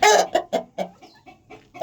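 An Aseel rooster gives a run of about eight clucks, the first loud and drawn out, the rest shorter and softer in an uneven rhythm, ending on a sharper call, close by with no talking.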